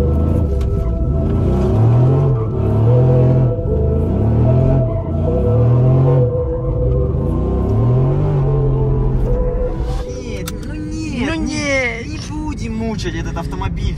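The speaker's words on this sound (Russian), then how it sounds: "Так, выезжаем на этом автомобиле." An all-wheel-drive car revs and pulls away, its engine note rising and falling in loud, close surges, with people talking over it throughout.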